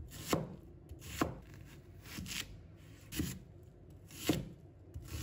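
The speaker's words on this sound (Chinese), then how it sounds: "然后改刀把洋葱切成小块" Knife chopping an onion into small pieces on a cutting board, about six distinct, evenly spaced chops with crisp board knocks, close and fairly quiet, with no voices.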